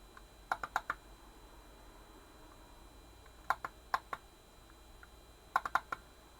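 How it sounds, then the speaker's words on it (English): An Atari 520STe floppy disk drive reads a disk in short bursts of quick clicking steps, three separate clusters of sharp ticks against a quiet hum. "So we've got F copy, and so it's reading the disk."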